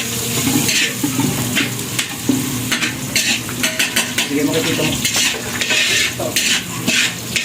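Food sautés in a burnt cooking pot, with sizzling and repeated scraping and clanging as a utensil stirs and knocks against the metal, close and busy, while a voice speaks briefly in between.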